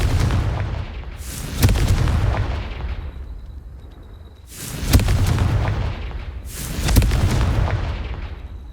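Confringo spell blasts in Hogwarts Legacy sound as three loud, booming explosive bursts, each with a sharp attack followed by a long rumbling decay, spaced a few seconds apart.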